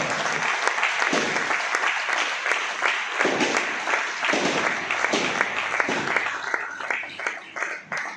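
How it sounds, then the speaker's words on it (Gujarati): A church congregation keeps clapping at a pastor's birthday gathering, steady, full applause from many hands close by that tapers into looser, scattered claps toward the end. "તાળીઓ પાડતા રહે તેઓ હાલો"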